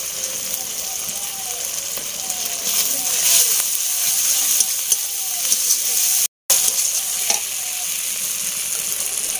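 Ginger paste frying in a hot pan, a steady broadband sizzle with faint crackles running throughout, dipping briefly for a moment before resuming.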